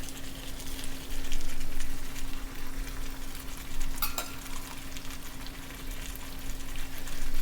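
Curry leaves and flat beans sizzle steadily in a hot pan for a South Indian mixed vegetable stir fry, a constant close crackle with a faint utensil clink partway through and a low steady hum beneath.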